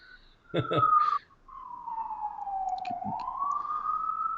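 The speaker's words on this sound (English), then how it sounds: "It's motherfucking sirens." A wailing siren tone slides down and then rises again, sustained and fairly clear, with a short burst of voices near the start.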